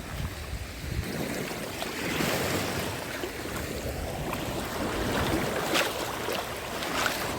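Stormy sea waves wash onto a beach in Odesa, a dense continuous rushing and churning surf with wind, close and fairly loud, with no talking.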